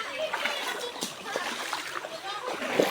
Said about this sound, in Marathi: हे असे पाण्यातनं बघा बदावर चालत चालले आहेत पाणी सगळं उडा लागले